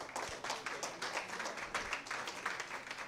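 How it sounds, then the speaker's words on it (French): An audience at a diploma award ceremony for an academy master class claps in a quiet, fairly distant patter of applause that keeps up steadily throughout. "Sous vos applaudissements, mesdames et messieurs"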